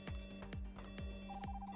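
A repeating alarm in the video game E.X. Troopers: about four evenly spaced falling electronic tones, each roughly half a second apart, over a steady synthetic hum, with a higher beeping pattern joining near the end.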